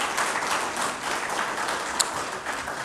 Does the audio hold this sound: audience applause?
yes